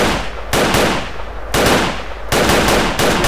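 Loud, sustained automatic gunfire from the video game Ace of Spades comes in dense bursts separated by brief dips, with no pause in the shooting.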